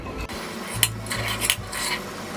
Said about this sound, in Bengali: একটু নেড়ে দেখছি,